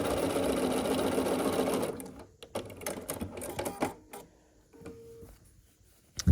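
A sewing machine stitches across a pink-and-white quilt block in a rapid, steady whirring run for about two seconds, then stops, leaving scattered clicks and fabric handling.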